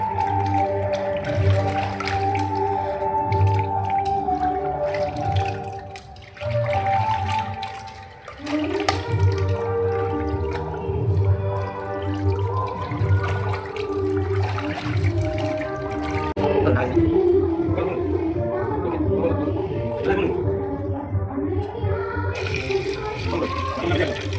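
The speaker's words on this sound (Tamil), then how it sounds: "கறியை நல்லா தண்ணியில் போட்டு கழுவிடலாம்" Raw meat for a biryani is washed in water in a kitchen, with steady splashing and running water throughout, plus a few pours and sloshes, while a person talks over it.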